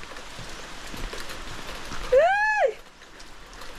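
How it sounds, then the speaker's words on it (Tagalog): Rain hisses steadily in the background while a single rising-and-falling whistle-like tone cuts through midway, then fades. "Maulan na naman, maulan!"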